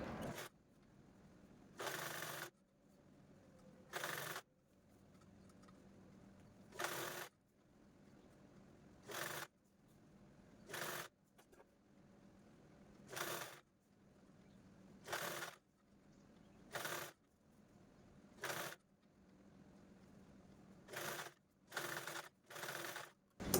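A domestic sewing machine stitches a double-folded fabric strip as piping along the edges of a cloth roti cover. Short, even bursts of mechanical whirring repeat with brief pauses between them, close and clear, with no talking.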